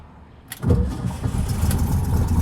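An old 1955 Volkswagen Beetle 36hp engine cranks with a little choke and catches after a short pause, then settles into a loud, steady idle close by.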